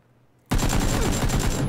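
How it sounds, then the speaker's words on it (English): Sudden burst of rapid automatic gunfire in the video game PUBG, erupting after a brief quiet and continuing as a loud, dense volley of repeated shots to the end. "I'm getting ready to shoot him."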